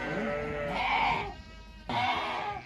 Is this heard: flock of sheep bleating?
yes